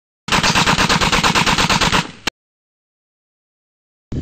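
Rapid automatic gunfire aimed at zombies in a video game, one loud sustained burst of evenly spaced shots lasting about two seconds, then silence before a short second burst starts at the end.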